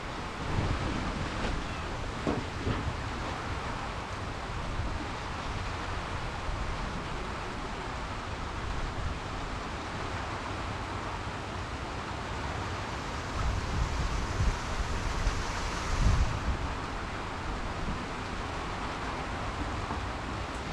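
Steady roar of strong typhoon wind and rain with rushing, gusting noise throughout, swelling briefly near the end, like a storm heard through a buffeted microphone.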